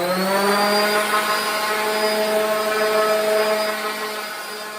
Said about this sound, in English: sand it with probably about a 120 grit so it'll be nice and smooth and ready for paint